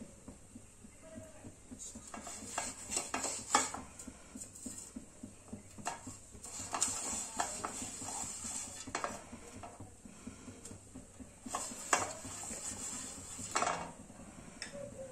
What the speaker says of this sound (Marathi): आता आपण एका चाळणीला तेल लावून घेणार आहोत खाली।